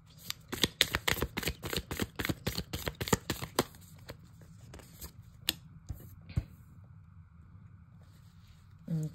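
Tarot cards are shuffled close by in a quick run of crisp riffling snaps for about four seconds, then a few sparse taps and card slides follow in a quiet room.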